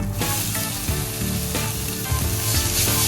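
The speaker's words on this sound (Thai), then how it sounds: "เมื่อเหลืองหอมแล้วนะครับนำหมูสับนะครับ ใส่ลงไปเลย" Minced pork sizzles and fries in a pan with pounded chili paste, a steady loud crackle running without a break and with occasional stirring scrapes, no voices.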